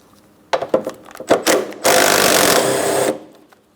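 A 10mm tool, likely a power ratchet, works the headlight mounting bolts on a 2003-2007 Cadillac CTS: several short clicking bursts, then a steady whirring run of about a second, loud and close.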